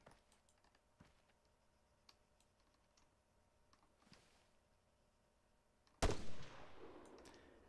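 Sparse distant gunshots crack at intervals in the military shooter game ArmA 3, then a loud close burst of fire erupts and rings out near the end.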